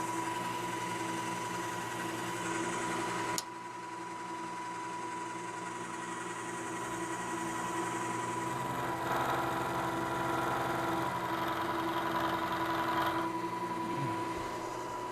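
A milling machine shaves material off one side of a small motor weight to make it eccentric, giving a steady mechanical whine and hum that briefly drops, then resumes with slight swells, with no talk.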